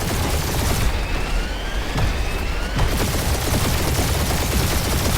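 Rapid gunfire and blasts from a firefight in the video game Marvel's Guardians of the Galaxy. The shots are loud and dense, with a brief whine partway through.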